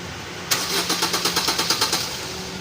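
The starter cranks a Maruti Baleno with a starting problem and a fuel pump primary circuit fault, after an accident. About a dozen rapid, rhythmic cranking pulses sound close and loud, then stop without the engine clearly catching.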